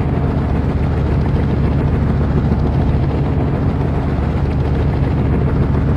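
A helicopter in the mobile flying game City Flight drones continuously, a steady loud rotor and engine hum with no change in level and no talking.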